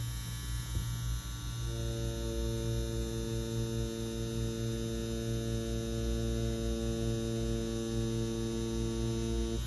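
A Trex standard 7-round liner tattoo machine runs on practice skin with a steady, loud electric buzz that holds throughout. It is close and continuous, with no talking.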